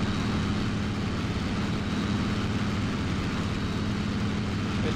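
Simulated Ki-84 fighter plane engine in the IL-2 1946 flight game, a loud steady low droning roar held at constant level throughout, with no speech.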